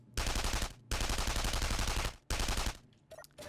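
In Space Engineers, a 5P56 sentry turret, a rifle mounted on a motorized platform, fires three long rapid bursts of automatic fire, loud and close, with short pauses between them and a few mechanical clicks at the end.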